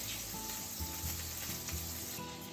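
Japanese hamburger steak patties, browned on both sides, fry in a pan with a dense, steady sizzle and crackle, close and without talk, over a faint low background hum.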